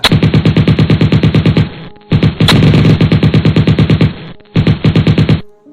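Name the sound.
very loud gunshots in an audio drama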